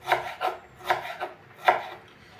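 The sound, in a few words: slicing fresh ginger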